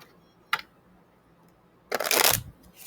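Two bursts of riffling tarot cards being shuffled, a short flick then a longer rushing shuffle, close and quiet otherwise.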